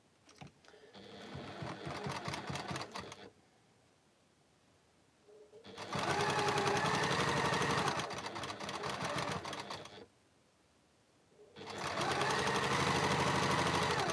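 A sewing machine runs in three sustained bursts of stitching along the last seam of a row on a Sun Prints Chains quilt, with quiet pauses between the runs.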